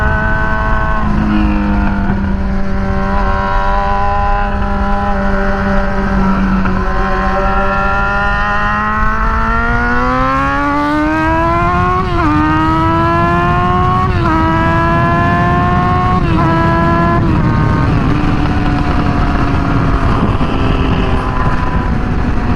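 Motorcycle geared with 15/49 sprockets cruising at speed on an interstate, its engine note steady and loud throughout, with pitch rising and falling as it shifts and accelerates and wind roar underneath.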